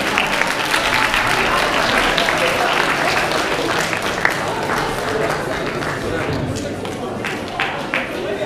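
An audience at a closing session of project presentations bursts into loud, dense applause that continues steadily for the whole stretch, with no pauses and a few scattered voices beneath the clapping.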